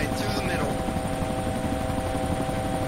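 Helicopter in the DayZ Origins video game, a steady close rotor thrum and whine filling the whole stretch at a constant loud level.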